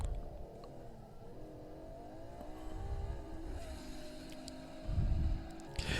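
Ferrari LaFerrari hybrid supercar engine revving, a smooth rising and falling harmonic drone with a louder low surge near the end, heard at moderate distance.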